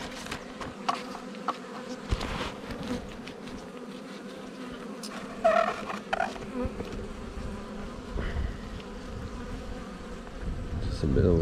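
Honeybees buzz around an open hive during a beekeeping inspection, a continuous close hum with individual bees droning past, and faint handling noises and brief voices now and then.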